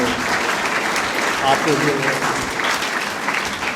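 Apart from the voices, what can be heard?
applause from cadets at a cadet college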